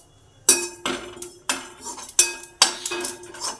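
A metal kadai, or wok, is set down on a stove, giving about six sharp clanks and scrapes in an uneven rhythm, close and fairly loud, with no talking.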